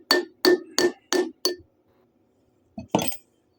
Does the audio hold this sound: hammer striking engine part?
yes